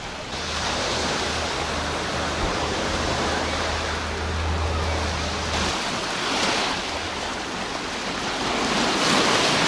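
Sea waves wash onto a pebble beach on the eastern embankment in Alushta, Crimea, a loud, continuous surge of surf with gentle swells and some wind noise.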